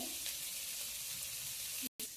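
Tamarind frying in a hot pan for Nellore-style cucumber chutney, a dense continuous sizzle close up, with a brief cut near the end before the frying resumes.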